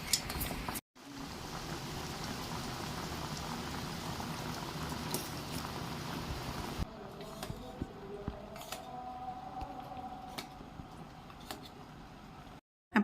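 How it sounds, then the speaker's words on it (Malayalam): Jaggery syrup with whole gooseberries bubbles steadily in a pan, a dense, continuous boiling hiss that thins into softer popping and crackling partway through, with occasional utensil clinks and no talk. "നമുക്കിതൊന്ന് തിളപ്പിച്ചെടുക്കാമേ."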